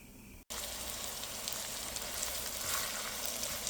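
Onion hits hot oil for a fish-head muri ghonto, the quiet background abruptly giving way to a steady, dense sizzle that carries on close and even until the end.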